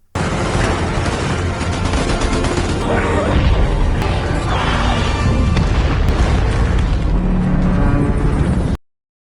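A loud, sustained explosion from an action film about a rampaging dinosaur in Vietnam, a dense roaring blast with crashing debris that keeps up at full volume for about nine seconds and then cuts off abruptly.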